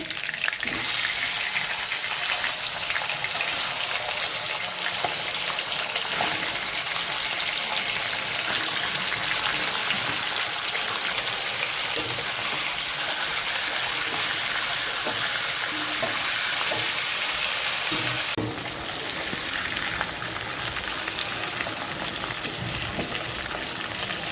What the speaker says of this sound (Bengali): ওই একই তেলে আর বাকি মাংসগুলোও ভেজে নিব